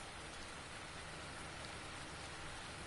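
Rain falling on a farm in the video game Farming Simulator, a steady, dense hiss of rainfall that stays even and faint throughout with no talk.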